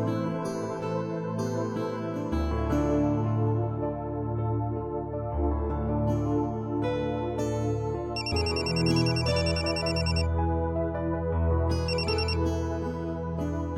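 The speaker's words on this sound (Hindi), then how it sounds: "फिर एक रोज अचानक एक फोन आया।" A telephone rings in a Hindi television courtroom drama, a melodic electronic ringtone repeating its tune in bright cycles for over ten seconds, clear and alone with no voices.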